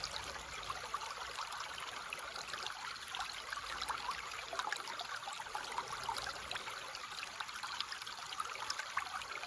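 A gently flowing creek gives a steady, soft trickle and burble of water, continuous and even throughout with no voices.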